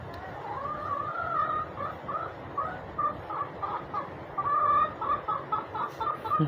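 A flock of chickens clucking and murmuring continuously, close and busy, with low background rumble.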